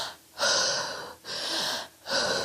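Heavy, labored human breathing up close, three long rasping breaths with short gaps between them, each a hoarse airy rush, no talking.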